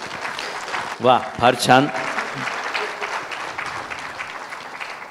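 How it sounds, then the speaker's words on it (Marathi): Audience applause at a talk on cancer testing: a thin, modest patter of clapping that rises after a voice exclaims briefly and then carries on steadily at moderate loudness. "टाळ्या कमी वाजल्या"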